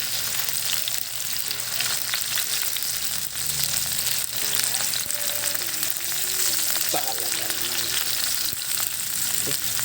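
Garlic and tomato fry while being stirred for a Filipino sautéed bitter gourd dish, a dense continuous sizzle close up with occasional scraping stirs, no voices.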